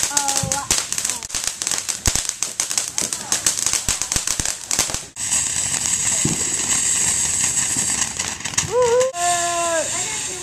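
Rapid fireworks crackle and pop in dense bursts, then give way to a loud continuous hissing roar, with voices shouting near the end, in North Carolina.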